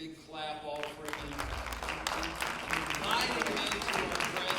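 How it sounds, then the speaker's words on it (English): A church congregation claps together during a Sunday service, a dense steady wash of applause that runs the whole time with a few voices mixed in. "give the Lord a great big clap offering"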